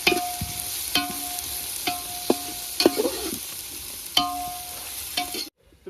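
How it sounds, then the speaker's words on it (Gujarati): Onions frying in a pan for Gujarati dal bati, a steady loud sizzle broken by regular clinks and scrapes of a stirring utensil. "ડુંગળી થોડી વાર શેકાવા દેશું"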